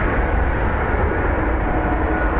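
An SAS airliner bound for Copenhagen departing Dublin Airport, a loud, steady broadband engine roar that fills the whole clip, heard close and continuous with no talking.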